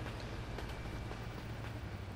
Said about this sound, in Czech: Zase ten vlak